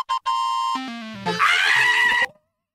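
A toad scream sound effect: one loud, close, shrill wavering shriek with a strained, bleating, whinny-like quality that slides down in pitch, then turns harsh and noisy before it cuts off abruptly. No talking.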